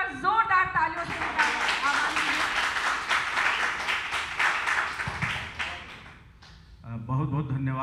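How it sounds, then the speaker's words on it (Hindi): Someone speaks, then strong audience applause for a poet at a Hindi poetry gathering swells for several seconds and fades before a voice resumes speaking. "मैं राकेश तूफान जी को आवाज देती हूँ, एक बार जोरदार तालियों से।"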